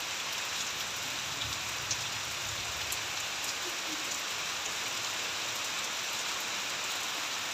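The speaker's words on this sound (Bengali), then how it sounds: "তো দেখো, অনেক দিন পর আজকে বৃষ্টি এসছে।" Steady rain falling on an evening after a long hot spell, a constant dense hiss of drops on surfaces with a few faint ticks, even and unbroken with no voices.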